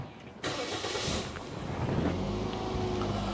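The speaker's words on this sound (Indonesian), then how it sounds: "Saya akan nyalakan mesinnya." A 2012 Toyota Yaris TRD Sportivo engine cranks and catches with a sudden loud burst, then settles into a steady close idle hum with a faint tonal whine running underneath.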